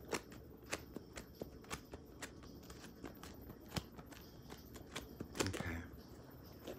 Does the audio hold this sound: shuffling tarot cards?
yes